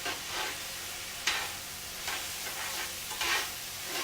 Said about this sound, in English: Okay, we're just going to stir this around.